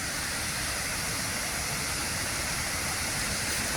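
A river rushes past as a constant broadband roar, loud and unbroken, with no voices over it.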